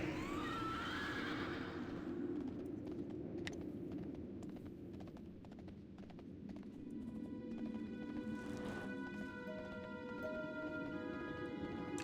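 A horse in World of Warcraft gives a long whinny near the start, followed by more horse sounds against a steady background of game ambience.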